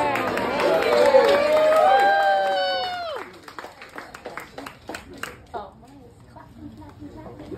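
Guests at a 40th wedding anniversary party cheer and call out loudly, then the voices give way to a few scattered, uneven claps and murmuring chatter in a room.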